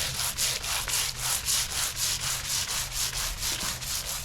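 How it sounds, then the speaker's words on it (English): Close, rhythmic back-and-forth rubbing of 240-grit paper across a painted bench top between coats, about three strokes a second, steady and fairly loud with no speech. "second coat, we're going to just give it a light sand."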